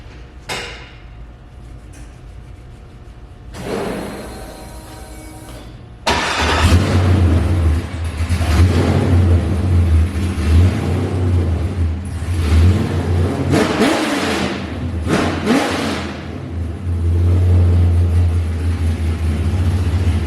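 A C5 Corvette engine cranks and starts after a quiet stretch, then idles loud and close with several sharp revs rising and falling.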